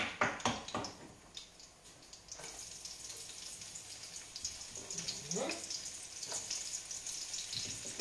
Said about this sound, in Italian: e intanto che soffrigge